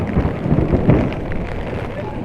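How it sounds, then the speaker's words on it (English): Low rumbling thunder rolling over a stormy seafront in Paphos, Cyprus, heard amid rain and wind noise, loud and sustained with a swelling peak before fading. "There's the thunder."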